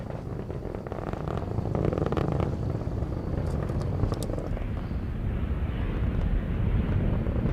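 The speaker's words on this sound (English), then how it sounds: "RD-180 throttling down slightly as expected, and engine response looks good." Atlas V rocket's RD-180 engine during ascent toward max Q on a Solar Orbiter launch, a steady, dense low rumble that fills the whole clip with gusty buffeting over it.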